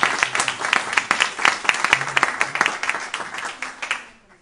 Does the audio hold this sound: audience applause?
yes